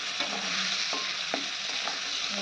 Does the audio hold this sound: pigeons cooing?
no